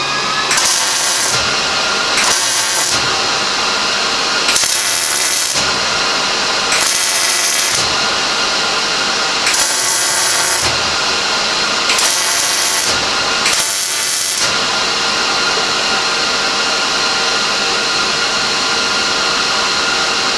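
A stainless steel frame spreader bar for a Model A hot rod shop truck is welded in a series of loud, close bursts of crackling hiss separated by short pauses, followed by a steadier buzz.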